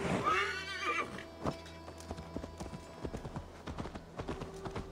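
A horse in Assassin's Creed Valhalla gives a loud whinny, then its hooves clop in a quick, uneven rhythm, close and clear over quiet game ambience.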